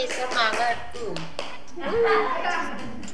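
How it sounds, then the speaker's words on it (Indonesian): Schoolchildren at an Islamic elementary school perform the 'tepuk semangat' rhythmic clapping routine during a Ramadan opening, with sharp claps under lively chanted voices and an adult speaking. "Tepuk semangat."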